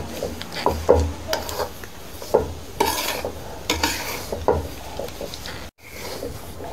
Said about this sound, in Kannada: ರವಾ ಫ್ರೈ ಮಾಡಿ ಆಯಿತು